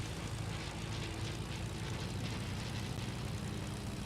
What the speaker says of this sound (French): Normalement, on fait juste le tour en avion pour capter ce qui se passe.